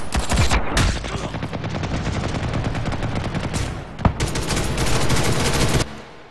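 Video game combat crackles with dense, rapid bursts of automatic gunfire, loud and continuous for several seconds with a brief gap and sharp single shots, heard without any talking.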